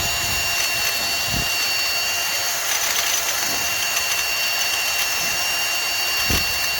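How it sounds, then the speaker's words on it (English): A wire wheel scrubs the crevices along the side of a Dodge brake caliper, giving a steady, loud, gritty whir with a few brief knocks and no pauses. "I always like to take a wire wheel and clean up the crevices down the side of the"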